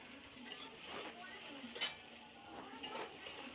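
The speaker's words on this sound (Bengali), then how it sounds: "পটলটা ভাজা হচ্ছে, আর এর মধ্যে একটু হলুদ আর নুন দিয়ে ভাজবো" Sliced pointed gourd sizzles steadily in a pan with turmeric and salt, a soft continuous frying hiss broken by occasional stirring clinks of a spatula against the pan.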